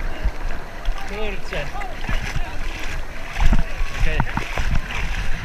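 Ocean waves splashing around a surfboard while surfing, a steady wash of water with louder surges, under excited talk and exclamations from people nearby.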